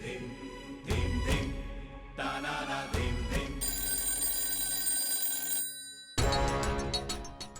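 A telephone rings repeatedly in a household scene from a Hindi TV drama, its electronic bursts loud and close and separated by short pauses, with no voices over it.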